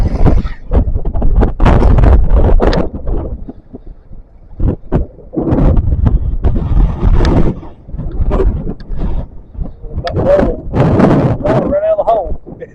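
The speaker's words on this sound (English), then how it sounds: "Got some crazy wind going on." Strong gusting wind of around 60 mph buffets a microphone outdoors while fence posts are set in rocky ground, in loud, uneven roaring bursts with brief lulls, with someone talking intermittently.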